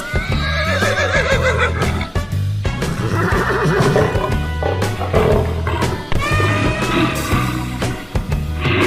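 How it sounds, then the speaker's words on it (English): A horse whinnies loudly in several long, shrill, quavering neighs that follow one another closely, close up and alone with no voices. "Horse."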